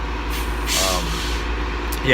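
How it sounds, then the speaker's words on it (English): A city bus pulls in at a bus stop, its engine droning steadily with a brief hiss of air brakes in the middle and another burst at the end, heard nearby under a speaking voice. "So the bus is coming for the area, so I'm like in the bus stop"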